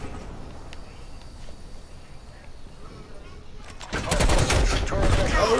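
A sentry gun opens up in Call of Duty: Black Ops Cold War: after a quieter stretch under a voice, loud rapid automatic gunfire bursts in and keeps rattling through the last seconds.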